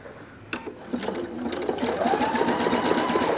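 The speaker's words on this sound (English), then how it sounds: "And now sew the entire length of the lace." A sewing machine runs at a steady rapid clatter while stitching a length of lace onto fabric for heirloom-style lace insertion. The motor hum is rising and the needle rhythm is close and prominent.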